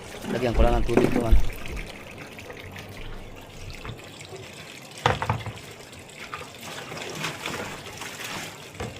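Water runs and splashes steadily as it is poured into a container, a close trickling and gushing sound that continues under a person talking.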